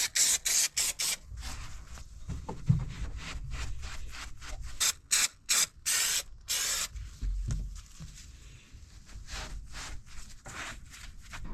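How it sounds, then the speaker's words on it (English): Glue is sprayed onto carpet in a Mk2 Ford Escort interior, in loud short hissing bursts, some rapid and repeated, separated by brief pauses and handling noise. "start to spray this glue on and make it sit properly"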